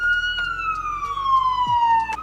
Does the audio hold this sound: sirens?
yes